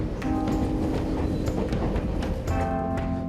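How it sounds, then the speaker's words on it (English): A commuter train to Keelung, Taiwan rattles along steadily, wheels clacking over the rails, with brief tonal squeals and hums from the carriage, close and constant. "Taking the first train to Keelung, this is how Zhang commutes with train"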